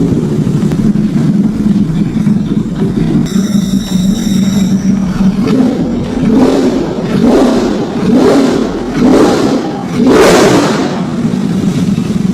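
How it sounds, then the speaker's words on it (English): A Ducati V4 motorcycle with a factory stock underseat exhaust rumbles loudly close by, with a deep exhaust note and repeated throttle blips rising and falling in rhythmic surges. "let's treat everyone to the exhaust note of this factory stock V4 underseat exhaust."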